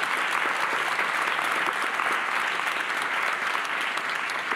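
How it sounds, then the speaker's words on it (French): Audience applause closes a round-table discussion on AI, design and public decision-making, a dense, steady clapping that holds at an even level throughout with no voices over it. "On peut les applaudir et les remercier."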